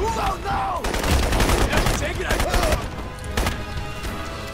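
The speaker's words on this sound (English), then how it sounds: "a shotgun is really a mean weapon if there are too many guys just trying to fire at you" Shotgun fire in the video game Crysis, several loud close blasts and bursts of gunfire over a few seconds amid busy game sounds, with a brief voice early on.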